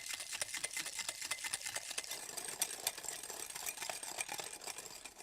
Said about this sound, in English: Just whisk away to make them just lighter and slightly fluffier.